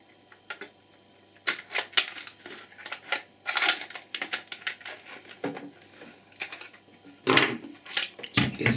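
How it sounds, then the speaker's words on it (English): Cutters snip through the cables of a desktop power strip in a run of sharp, close clicks and crunching cuts, irregular and bunched, with quiet pauses between bursts. "Let's cut the cables."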